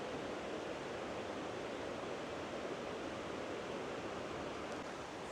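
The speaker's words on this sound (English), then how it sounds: "we can hear that water raging down this canyon." Water rages down a canyon in the San Gabriel Mountains, a constant broadband rushing roar of torrent heard alone at moderate level, unbroken and steady throughout.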